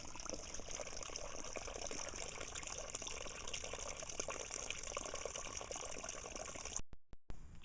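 Spring water trickles steadily in a soft, continuous stream, fairly faint, before cutting off abruptly near the end.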